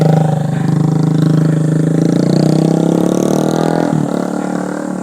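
A Yamaha Mio scooter engine drones steadily up close and loud, with its pitch climbing slowly as it revs and then easing off near the end.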